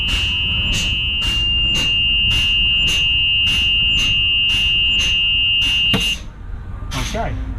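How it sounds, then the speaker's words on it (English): A truck's low air pressure warning buzzer sounds in a steady series of evenly spaced pulses over a continuous high tone and engine rumble, with someone talking over it before the pulses end. "you should get a red indicator light on your dash on the left-hand side right above your primary air tank, and an annoying buzzer will come on."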